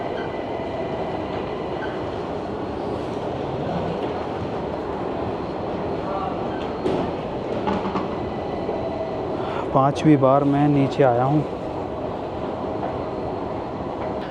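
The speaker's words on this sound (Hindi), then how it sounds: "ट्रेन आ गई है।" A metro train rumbles steadily into a Tehran station, its wheels squealing in short bursts near the end while someone talks over the noise.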